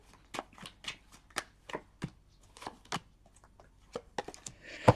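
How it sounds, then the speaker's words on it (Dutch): Tarot cards being shuffled by hand in a run of crisp, papery riffles and slaps, close and fairly quiet, ending in a sharper snap with no voice. "Dus aan de kaarten schudden om te kijken wat week 51 voor de Schorpioen gaat brengen."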